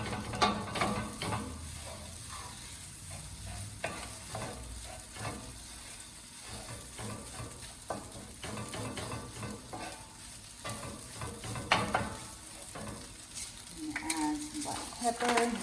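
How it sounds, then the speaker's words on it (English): Tofu scramble fries in a pan while being stirred continuously, a steady sizzle broken by scraping and clinks of the utensil against the pan, close by. "you just want to stand here and keep mixing and mixing"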